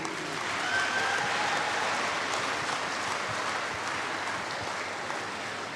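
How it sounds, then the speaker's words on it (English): Warm applause from an assembly audience at a youth leadership awards event, as Pastor Titi Adeboye comes up to present prizes. Steady, even clapping from many hands carries on throughout with no talking over it. "I'd like us to give a warm applause for Pastor Titi Adeboye"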